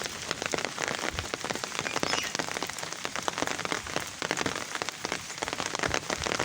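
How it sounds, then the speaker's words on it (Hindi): Steady rain patters densely on surfaces outdoors, a continuous close hiss of many drops with no voices. "बारिश की आवाज़ आ रही है।"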